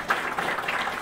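Brief patch of audience applause at a planetary space congress, a steady wash of many hands clapping at moderate distance, short and fairly soft.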